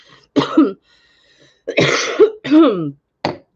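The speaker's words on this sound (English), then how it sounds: "I'm seriously coughing on lint or dust" Several harsh coughs and throat clearings from coughing on lint or dust, in quick succession, close and loud, separated by short silences.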